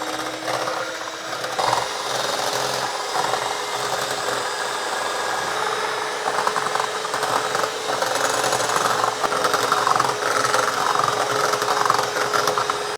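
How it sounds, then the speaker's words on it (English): Egg yolks and golden caster sugar are whisked, probably with an electric whisk, for chocolate lava cake batter, giving a steady close motor whir with a rattling beater texture that runs continuously for about thirteen seconds with no talking. "Just going to whisk this now."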